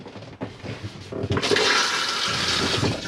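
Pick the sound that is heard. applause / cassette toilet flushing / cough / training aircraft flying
cassette toilet flushing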